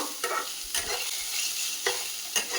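Fried masala with dal and spinach being stirred in a pan, several close scraping stirs over a soft steady sizzle, with no talk.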